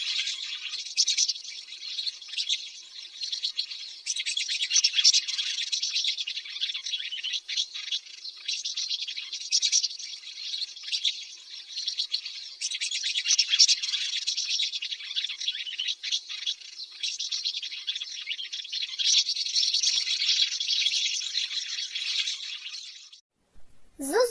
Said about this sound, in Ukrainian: Ластівка це гніздовий перелітний птах